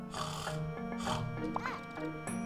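Low grunting oinks from a pig in a video game repeat over a droning background, with a few squeaky snorts mixed in.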